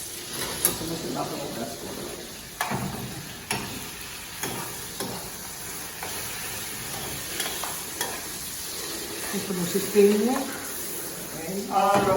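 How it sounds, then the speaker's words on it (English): Garlic sautés in olive oil in a saucepan for a cognac and vodka pasta, with repeated spoon stirs and knocks over a soft sizzle while people talk throughout. "Then we let the garlic saute a little bit, and then we're gonna add our tomato sauce."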